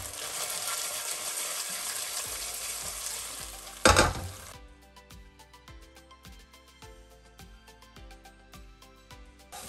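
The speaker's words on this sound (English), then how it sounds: "So we are going to fry everything in the pan for about 30 to 45 seconds." Garlic, chili and ginger sizzle in a pan over low heat, a steady close frying hiss that briefly flares loud midway, then settles into quieter sizzling with light stirring clinks and scrapes.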